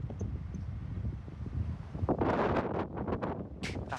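Wind gusts outdoors in a farm setting with a tractor-mounted rotavator around, a steady low rumble building into louder, rustling bursts in the second half, with no talking.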